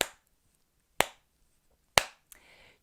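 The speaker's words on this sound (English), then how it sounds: "Can you clap your hands?" Single hand claps at a children's story time, three sharp claps spaced about a second apart, close and alone in a quiet room, followed by a faint brief sound.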